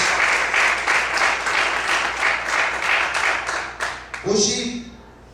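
Congregation applause during an evening church service, clapping steadily for several seconds before tapering off as a voice begins speaking near the end.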